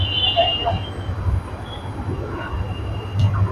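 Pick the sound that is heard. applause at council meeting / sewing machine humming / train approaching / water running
train approaching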